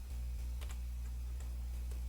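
Quiet keyboard typing: a few scattered, soft key clicks spaced irregularly over a steady low hum, faint and close, with no speech.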